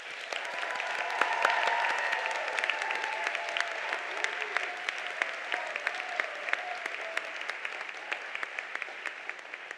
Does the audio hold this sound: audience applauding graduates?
yes